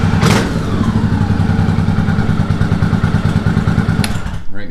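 A 1983 Honda Shadow 750 motorcycle engine cranks and catches, settling into a loud, close, lumpy idle with rapid thudding pulses.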